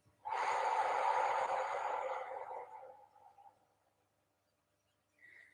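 A person breathes out during a guided relaxation for anxiety, one long, breathy, fairly loud exhale that tapers off over about three seconds, followed by quiet.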